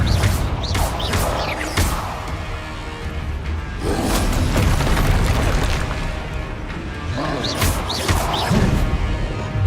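Confringo explosive spell blasts in Hogwarts Legacy, loud repeated booming crashes and whooshes in quick succession, dense and close, mixed with other combat sounds.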